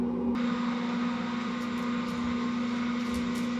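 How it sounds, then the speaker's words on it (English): Electric mixer beating butter: a steady, even motor whir that starts abruptly and keeps running throughout, with a few faint clicks. "So let me turn my mixer up"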